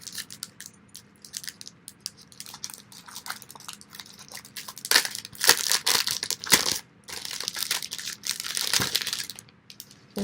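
Paper being handled and crinkled up close, with quiet rustling at first that turns into bursts of louder crackling and crumpling toward the middle and end, with no talk.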